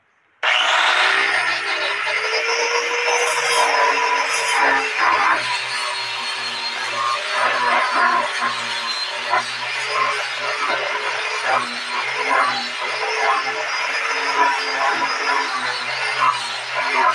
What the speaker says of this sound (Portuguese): Depois vou lixar com esse disco aqui de grão 150.